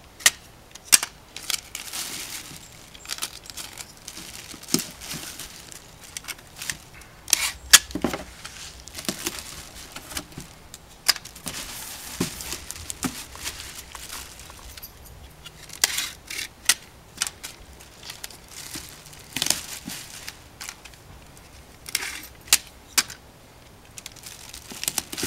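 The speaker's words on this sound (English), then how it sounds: "taped all the way around, right to the top" Tape being pulled and wrapped around a homemade vortex cannon, heard as repeated crinkling rips and sticky tearing sounds at irregular intervals, fairly close and quiet, with no talking.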